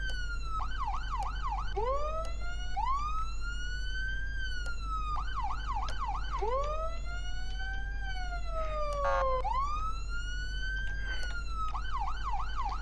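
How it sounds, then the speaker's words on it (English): Police car siren in the video game Flashing Lights, cycling through wailing and rapid yelping tones, loud and continuous over a low steady engine hum. "Try and get the siren now."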